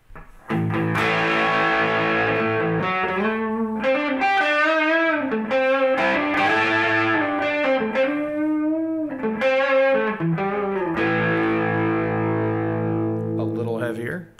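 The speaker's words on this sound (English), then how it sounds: "You start to get that classic distortion sound." A heavily distorted electric guitar through a full-gain distortion pedal and boost plays sustained chords and a few bending single notes, loud and gritty with a long ringing decay.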